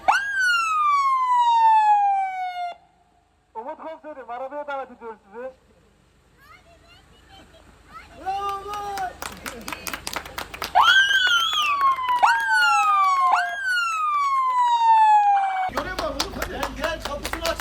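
A loud police siren wails and yelps in rising and falling sweeps, cuts out briefly, then returns with different patterns as voices talk underneath.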